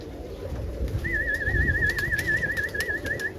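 Roller pigeons in a loft calling steadily, with a close, warbling cooing line running through the middle of the clip over soft rustling.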